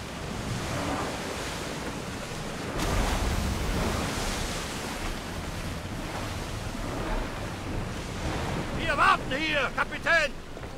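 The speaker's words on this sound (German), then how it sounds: "Der Sturm macht das Ganze jetzt auch nicht unbedingt leichter, hier auf See zu kämpfen." Heavy storm waves surge and crash around a sailing ship at sea in Assassin's Creed Odyssey, a roaring wash of water and wind with shifting swells and sharper splashes near the end.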